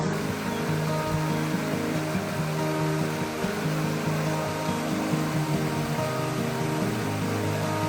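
Waterfall under a bridge in the mountain village of Smangus, a steady, dense rushing roar of falling water that holds constant and close throughout, with no voices.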